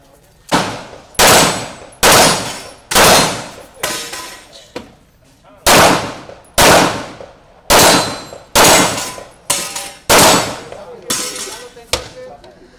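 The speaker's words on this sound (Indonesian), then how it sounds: "Mereka ngabuburit sambil berlatih menembak." Gunshots at a Perbakin shooting club practice session in Makassar, a series of about fifteen loud, sharp reports fired at an irregular pace with short gaps, each ringing out briefly before the next.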